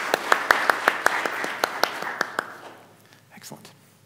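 Scattered claps for a choir at a church worship service ring out, a quick run of sharp hand claps that thins and fades out, with faint murmuring voices underneath.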